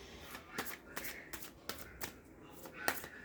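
Tarot cards shuffled by hand in a quiet room, a string of sharp papery riffles and snaps at a fairly steady pace, fairly faint, with no talking.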